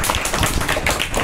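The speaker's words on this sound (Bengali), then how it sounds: "জোরে হাততালি।" A short burst of clapping from a group at a school assessment celebration, loud and close with dense overlapping claps and no speech.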